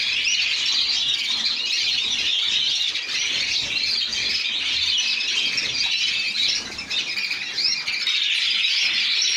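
Dense, continuous chirping and squawking of many small caged birds in an aviary close by, a busy chorus that barely pauses.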